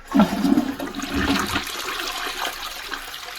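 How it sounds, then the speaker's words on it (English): A toilet flushes after a neglected bowl was treated with Zep acidic cleaner, starting with a loud rushing surge and then draining off into a softer trickling wash, with no voices. "we're going to flush and see if all the stuff is gone"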